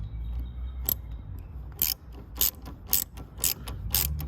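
A ratchet turns a nut down onto a battery hold-down bolt in a Honda Acty kei truck, making a few crisp, close clicks in quick strokes over a low rumbling background, with no talk.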